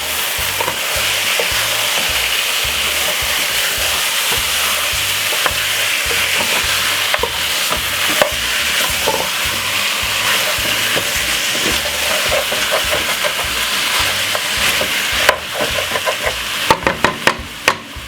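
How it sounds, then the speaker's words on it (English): Onions fry and are stirred in a pot for curry chicken, giving a loud, constant sizzle with scraping and stirring sounds throughout and a few sharper knocks near the end. "Give it a good stir."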